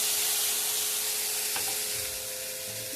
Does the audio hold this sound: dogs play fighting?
no